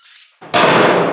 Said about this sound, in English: cut this last sheet real quick